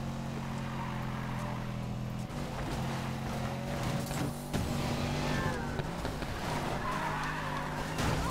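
A car drifts with tires skidding and squealing in the racing game Need For Speed Payback, a steady engine roar with sustained screeching tire tones layered over continuous game sound.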